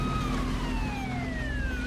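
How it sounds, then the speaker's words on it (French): An ambulance siren wails in a film scene, a loud, steady, sliding tone with a slow downward pitch sweep over a continuous vehicle rumble, heard alone with no talking. "une ambulance amène Jack à l'hôpital"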